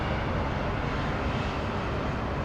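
A Qantas jet airliner rolls on runway 34 left at Sydney Airport, giving off a steady, loud, broadband engine roar that holds even throughout without any voices.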